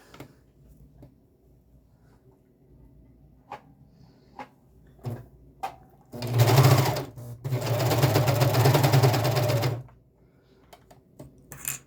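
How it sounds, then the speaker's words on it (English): A sewing machine stitches along the edge of an iPhone pocket in two loud, steady bursts of running, with a brief pause between them, framed by quiet handling clicks and taps before and after. "now I'm just gonna sew along the whole edge, leaving no hole"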